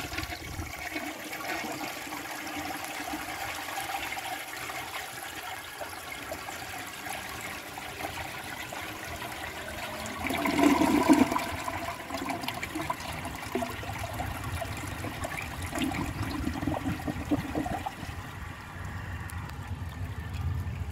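A 1963 Chicago Potteries toilet flushing a dish towel: a steady background hiss of running water swells into a louder rushing surge of the flush midway, then settles back into trickling refill water.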